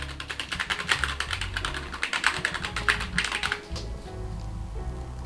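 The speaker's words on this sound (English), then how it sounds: "if you guys type something on here" Rapid clicky typing on an NPET K11 wireless RGB gaming keyboard, a dense run of close keystrokes that pauses briefly near the end before a quieter stretch.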